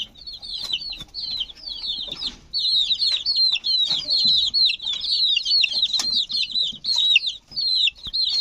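Chicks and hens in a farmyard where chicks scramble over resting rabbits: a dense, continuous chorus of high, thin peeping close by, with softer clucks underneath and brief rustles.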